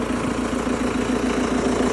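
A 2013 MTZ 1025 tractor with a synchronized gearbox idles steadily nearby, its engine holding an even, throbbing rumble with a regular pulse throughout and no voices.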